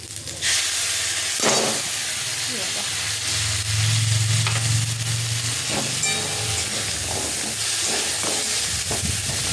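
Ground spice paste being stirred into softened fried potatoes and lentil dumplings in a pan, a steady close sizzle with scraping spoon strokes throughout, no talking.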